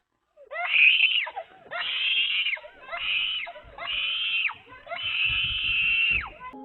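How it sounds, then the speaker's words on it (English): A girl screams in fear after a raccoon bites her leg, letting out five long, shrill, close cries in quick succession with brief pauses between. "she screams in fear and distress"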